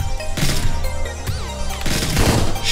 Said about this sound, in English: there's a fucking firing line